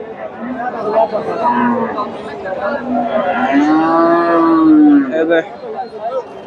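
Several crossbred Friesian dairy cows moo loudly nearby at a cattle market, one long drawn-out low call standing out, with background chatter from people around.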